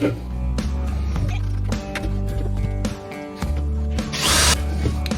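A power drill bores holes into a wooden guitar fretboard in a workshop, its motor whining in several close bursts separated by short pauses and handling knocks.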